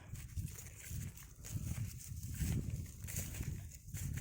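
Goat kids bleat repeatedly in a field, searching for their mothers, over a steady outdoor background, their cries overlapping at close to moderate distance with no pauses.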